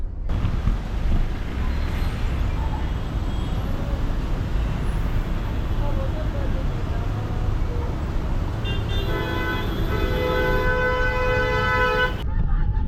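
Heavy road traffic crawling across the Kalwa bridge on the way toward Bhiwandi: a steady dense roar of engines and wind, with car horns joining in the last few seconds as overlapping, sustained honks.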